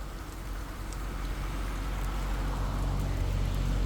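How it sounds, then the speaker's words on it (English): Rain falling steadily over a park in Geneva, Switzerland, a broad continuous patter with faint droplet ticks, rising slightly in loudness and heard without voices. "It's raining today"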